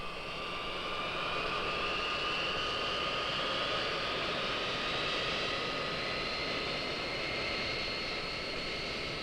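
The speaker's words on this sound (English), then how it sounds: "Captain Rogers calls the tower and receives clearance to taxi to the end of the runway." An airliner's jet engines drone steadily and loudly while it taxis toward the runway, a sustained whine over broad rumble that continues unbroken, with no talk.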